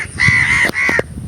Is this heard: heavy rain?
no